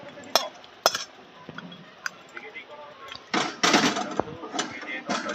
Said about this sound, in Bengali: এবার চিকেনটা আমি ঢেলে নিচ্ছি।